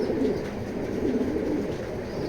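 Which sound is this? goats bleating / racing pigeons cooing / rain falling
racing pigeons cooing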